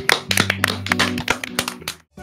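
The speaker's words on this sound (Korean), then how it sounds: "모두 박수!" A short burst of lively clapping, sharp and close, with a few quick taps, lasting about two seconds.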